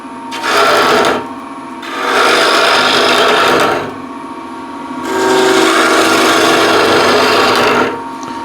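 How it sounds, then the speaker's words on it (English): Spindle gouge hollowing a roughed-out maple wood sphere on a lathe, three sustained scraping, rasping cuts of a few seconds each separated by short pauses over a steady motor hum, loud and close. "I'll just hollow this out with a spindle gouge"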